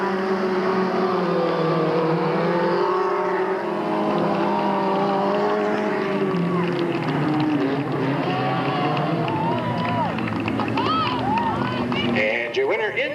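Race cars roar around the Delta Speedway oval at a 1997 event, a steady, loud engine drone swelling and shifting as they come off a corner, with a voice talking over it throughout.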